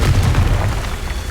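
Confringo spell explosion from the Hogwarts Legacy game, a short, heavy booming blast with a deep rumble that holds steady and loud through the brief moment.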